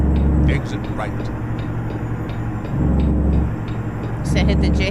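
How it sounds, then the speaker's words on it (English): A heavy truck's Jake brake in American Truck Simulator: a deep, throaty low rumble that cuts in and out in bursts over a steady engine drone, with a voice talking over it. "The Jakes don't sound very good on this truck."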